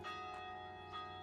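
Carillon bells in the Schaefer Tower ring the Westminster Quarters, their tones overlapping and sustaining into a resonant wash, with fresh strikes sounding at the start and again near the end.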